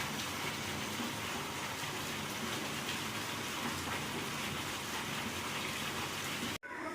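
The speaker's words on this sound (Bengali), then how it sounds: "এখন বাজে রাত্রির প্রায় একটা তুমুল সারে বৃষ্টি হচ্ছে আর আমি জানলার ধারে বসে বসে বৃষ্টির আওয়াজ শুনছি" Heavy rain falls at night outside a window, a dense, constant roar of drops that stays loud and even until it cuts off abruptly just before the end.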